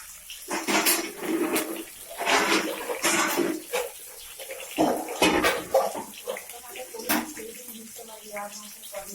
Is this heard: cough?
no